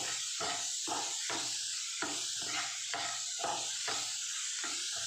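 Chopped tomato frying in a pan for a raw banana palya, a steady close hiss and sizzle broken by regular scraping stirs roughly twice a second, with no talk.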